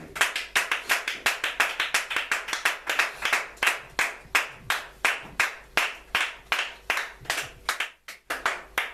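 A church congregation claps in acclamation during worship, with steady, fairly fast rhythmic group clapping for several seconds that loosens slightly near the end, and no voices over it.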